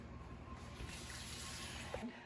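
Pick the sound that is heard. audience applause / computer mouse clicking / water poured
water poured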